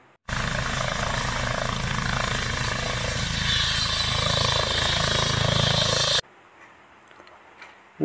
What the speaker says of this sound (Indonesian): Wow, ini helikopter.